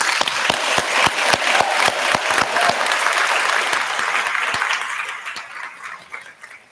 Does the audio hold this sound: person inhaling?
no